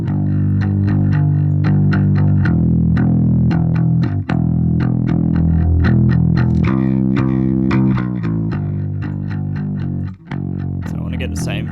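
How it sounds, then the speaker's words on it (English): Drum loop crushed through a Pulsar Smasher compressor plugin driven hard for heavy distortion, steady pounding kick and snare hits with gritty saturated tone, loud and continuous with a couple of brief dropouts. "what I want to do is increase that output even more to get more distortion"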